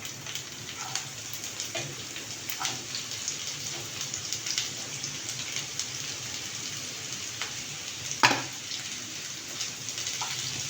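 Onions and okra sautéing in a pan for a dry bhindi dish give a steady, close sizzle of fine crackles and pops, continuous throughout with no talking.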